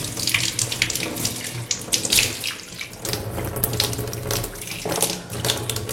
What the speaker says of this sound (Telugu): ఇది ఫ్రెష్ వాటర్ ట్యాపు, ఇదేమో గ్రౌండ్ వాటర్ ట్యాపు.